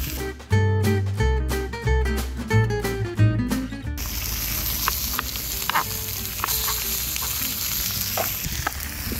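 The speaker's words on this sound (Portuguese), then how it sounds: "Eu deixo dar uma refogadinha no alho na parada" Garlic sizzles and fries in a pan at an outdoor picanha cookout, a steady crackling hiss that takes over after an opening stretch of loud tonal music, with faint scattered pops over it.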